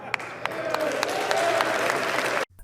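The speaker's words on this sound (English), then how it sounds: "So you recognise the applause at the end to that line." Applause from a political rally crowd after a line in a speech about police and Democrats, dense steady clapping with sharp individual claps through the clip, then cutting off abruptly near the end.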